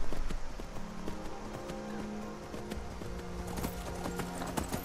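Shadowmere, a horse in the video game Skyrim, gallops with steady rapid hoofbeats, close and continuous, over game ambience with a faint whinny.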